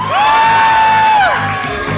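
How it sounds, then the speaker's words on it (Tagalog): A loud crowd at a debutante birthday celebration, with a long rising-and-falling cheering whoop ringing out above the general roar and shouting. "Palinig nga muli ng isang malakas na palakpakang may sigawan."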